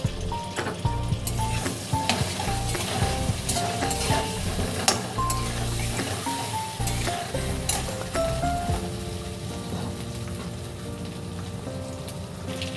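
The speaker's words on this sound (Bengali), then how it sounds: "এবার এতে দেবো আদা বাটা, দিয়ে ভালো করে নাড়াচাড়া করে নেব।" Potatoes fried until red sizzle in a hot pan as ginger paste is stirred in, giving a constant crackling hiss with intermittent spatula scrapes and light clinks, close and steady, with no voices.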